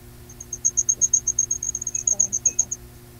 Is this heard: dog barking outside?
no